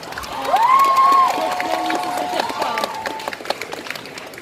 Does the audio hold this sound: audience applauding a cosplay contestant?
yes